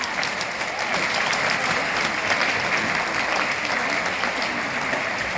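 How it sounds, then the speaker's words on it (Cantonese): Warm, sustained applause fills a school hall as the audience thanks student performers at a Tung Wah Group joint primary-school variety show; the clapping is even and dense throughout, with no voices over it. "請你哋再以熱烈嘅掌聲多謝咁多位嘅表演同學"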